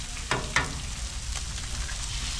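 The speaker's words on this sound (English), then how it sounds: "Eggs on the griddle, baby." Eggs fry on a hot griddle with butter, a constant crackling sizzle heard close up, broken by a couple of sharp louder pops near the start, with no talk over it.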